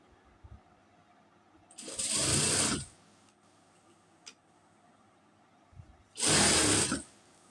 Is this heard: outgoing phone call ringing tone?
no